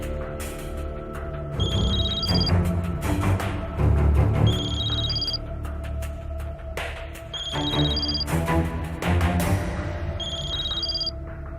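A telephone rings repeatedly in several bursts over a dense, loud backdrop of music or room sound, with no talking.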